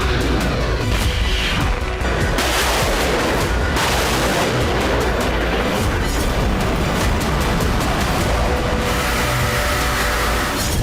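Dense, continuous barrage of heavy booms and cracking blasts from explosions and artillery fire in Odesa during the Russia-Ukraine war, loud and relentless throughout with no pauses.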